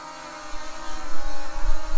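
A Holystone HS175D foldable drone takes off and flies close by, a steady buzzing whine of its propellers that swells slightly louder as it rises.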